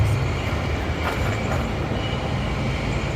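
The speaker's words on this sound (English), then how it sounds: "So there is the train we're speaking of." A train rolls steadily past near an RV park in Vancouver, British Columbia, with a loud, continuous rumble of wheels and rail cars and faint clicks of wheels on track joints.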